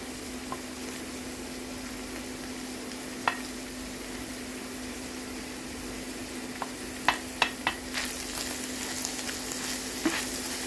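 Sliced carrots and green beans frying in a pan for spring rolls, a steady low sizzle with a constant hum underneath and a few sharp clicks of stirring toward the end.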